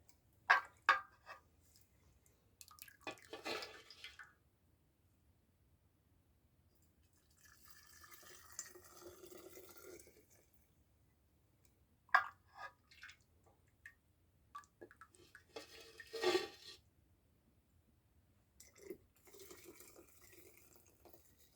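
Homemade chokecherry syrup dripping through a funnel in a kitchen: faint, scattered drips and small liquid splashes in short bursts separated by quiet gaps, close by.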